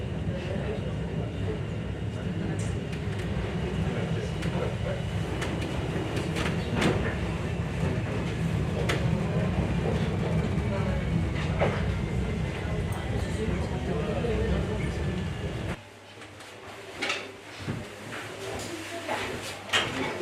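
Mont Blanc tramway train rolling along its rails near Saint-Gervais, a continuous loud rumble with rhythmic clicks and rattles that suddenly drops to a quieter interior hum, with voices speaking over it.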